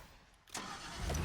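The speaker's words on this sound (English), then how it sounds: "Listen to that engine perf." A Neon Knight Kitty Cart kart engine in the Fortnite video game starts up: quiet at first, then a steady broadband engine roar kicks in about halfway through and holds close and loud.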